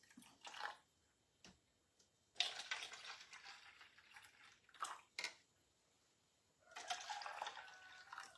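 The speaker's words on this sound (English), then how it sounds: "I'm just going to add some hot water" Hot water poured into Easter egg dye makes short splashy bursts, then a longer liquid pour, close by and fairly quiet with pauses between.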